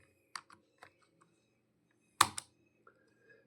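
Computer keyboard keys are pressed while working in Tally Prime accounting software. A handful of sparse, crisp clicks are followed by one louder double keystroke and a couple of faint taps, in an otherwise quiet room.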